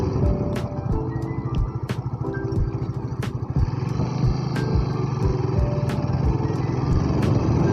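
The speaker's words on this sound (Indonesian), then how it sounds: "Jangan lupa dipanasin agar motor lebih sehat." A Honda Sonic 150R motorcycle engine idles while warming up, a loud, close, steady putter with regular sharp ticks recurring throughout and no talking.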